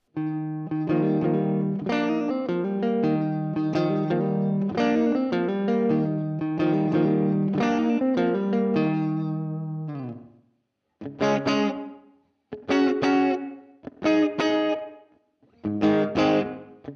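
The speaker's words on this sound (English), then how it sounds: "Okay, nice spring reverb." Electric guitar through a Valeton GP-200LT's spring reverb strums chords with a bright, boingy reverb, first continuously, then in short separated bursts with gaps between them.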